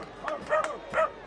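Dogs bark and yip in a few quick, moderately faint bursts amid a soccer match, heard against a low crowd murmur.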